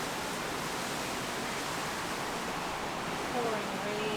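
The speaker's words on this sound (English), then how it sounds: "Pouring rain." Pouring rain falls as a steady, dense hiss, close and uniform throughout without breaks or individual drops standing out.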